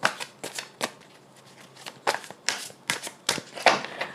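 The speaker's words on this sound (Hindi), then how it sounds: "पहले थोड़ा शफल कर लेते हैं अच्छे से" A tarot deck is shuffled close by in quick riffling bursts, about a dozen sharp papery flutters in an uneven rhythm, with no speech over them.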